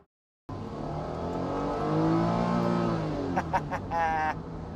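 A Honda NSX Type S engine revs hard while driving, a loud rising and sustained roar heard from inside the car, ending with a few short sharp blips and a brief whine.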